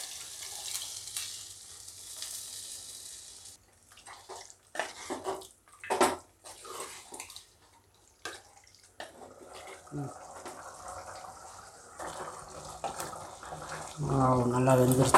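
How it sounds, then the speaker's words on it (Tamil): Water goes into a pan of chicken gravy with onion and tomato. It comes in uneven splashing bursts over an ongoing sizzle, with a louder bubbling, hissing rush building toward the end. "இந்த சிக்கனுக்கு தேவையான தண்ணி ஊற்றிடலாம்."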